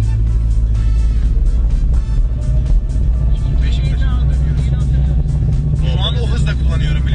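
A car driving on the road, its engine a steady low rumble that runs through the whole stretch under constant conversation, with a few brief rises in pitch suggesting revving.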